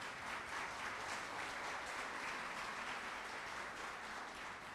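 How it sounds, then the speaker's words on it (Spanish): A church congregation claps together in steady, continuous applause, heard faintly and at a distance as an even wash with no voices rising above it. "Denle el aplauso al Señor por eso."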